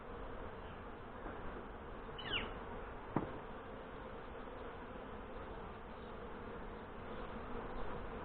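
Honey bees buzz around an open hive during an inspection, a steady low drone close by with a brief louder pass near the middle. No voices are heard.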